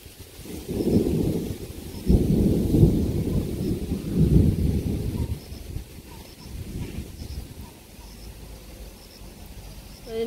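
Thunder rumbles during a rainstorm, several deep rolling peals in succession in the first half, loud and near, then fading into softer wind and rain noise.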